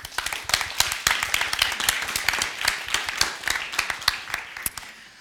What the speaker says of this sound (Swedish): Men vi ger panelen en applåd